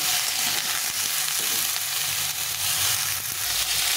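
Pumpkin stalks frying in oil in a pan for a dal recipe, giving a loud, continuous sizzle with occasional stirring scrapes and no talking.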